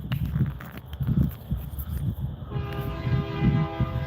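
Iowa Interstate railroad train passing at a distance, a low rumbling roll of wagons with a sustained horn tone entering partway through, no talk.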